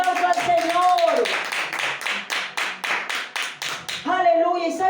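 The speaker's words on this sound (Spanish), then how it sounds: "denle un aplauso al Señor." A church congregation claps in a rhythmic, evenly spaced beat for a few seconds between stretches of a preacher's amplified voice, which is heard at the start and again at the end.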